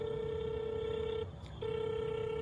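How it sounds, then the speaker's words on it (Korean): A phone dialing out on a call, giving a steady, clear electronic tone that breaks off briefly and then resumes, with no voices. "전화 한번 해보겠습니다."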